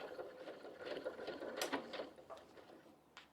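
A sewing machine back stitches fabric for a Japanese knot bag in a few quiet, short mechanical bursts of rapid needle clatter with brief pauses between.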